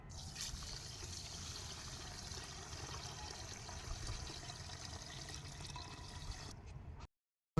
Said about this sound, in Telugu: తర్వాత నీళ్ళు పోసుకోవాలి, నానబెట్టుకోవాలి కాబట్టి.